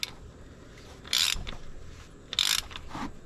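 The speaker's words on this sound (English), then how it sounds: "And you just take your extension, you can tighten it up like this." Ratchet on an extension tightens an oil filter on a 2016-or-newer V6 Toyota Tacoma, two short bursts of rapid clicking about a second apart, close up, with faint mechanical knocks between and no speech.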